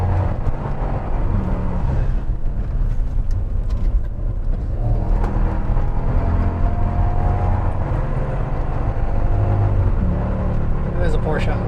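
A Porsche Cayenne drives a winding road, heard from inside the cabin as a steady loud engine and road roar with shifting pitch, and voices talk faintly beneath the noise.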